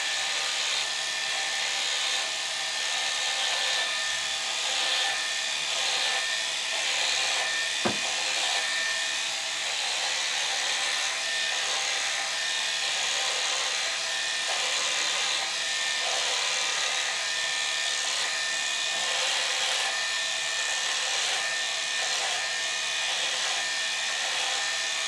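An electric beard trimmer buzzes steadily and close at hand while a full beard is cut down, a constant high whir with only slight changes in pitch and one brief tap partway through.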